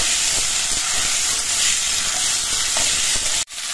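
Malabar spinach seeds are stirred into hot oil in a pan, giving a loud, continuous close hiss and sizzle with faint scraping, which cuts off abruptly near the end; no one speaks.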